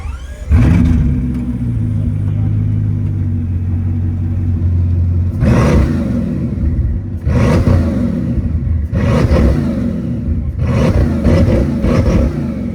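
A Bugatti W16 Mistral's 1600 hp W16 engine roars through its air intakes, loud and close, with an opening rev and steady drone followed by three repeated hard acceleration bursts, each surging then easing.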